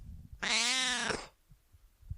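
A single drawn-out meow from a nearby cat, clear and rising then falling, followed by quiet.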